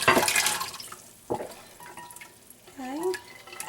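Pomegranate juice is poured through a strainer into a bowl in a home kitchen, making brief splashy trickling sounds up close, with soft voices and small kitchen noises mixed in.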